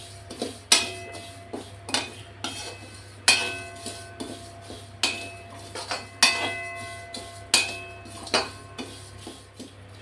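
Whole mustard seeds, cumin and fenugreek dry roasting in a pan for Malvani masala, with repeated sharp clinks and scrapes of a spatula against metal roughly every second, close and fairly loud over a steady low hum.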